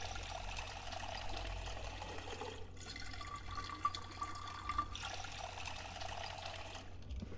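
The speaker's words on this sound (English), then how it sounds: "Fill all your bottles." Water runs steadily as bottles are filled in the video game Project Zomboid, a soft continuous trickling pour with a brief break midway, quiet and unaccompanied by talk.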